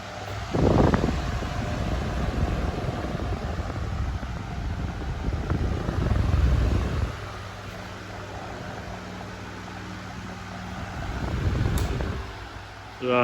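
A GEC bullet desk fan runs at medium speed with a steady airy whir, broken by a few heavy gusts of breeze buffeting the microphone, with no one talking.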